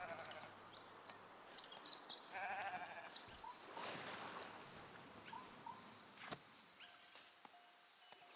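Sheep bleating in the city-building game Foundation, a few soft bleats mixed with light game ambience and small clicks, faint and in the background.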